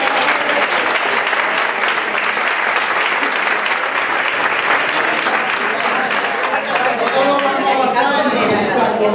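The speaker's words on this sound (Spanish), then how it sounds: "Pero, un aplauso también." Sustained applause from a live audience at an interactive flamenco session, dense and loud throughout, with scattered voices and chatter mixed in toward the end.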